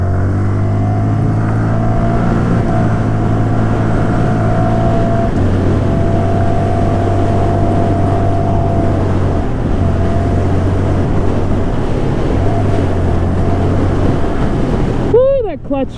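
A 2018 Honda Grom stunt motorcycle rides over slushy ice with a steady engine drone that shifts pitch as it goes, wind and road noise throughout and a rising whine near the end; the clutch is slipping.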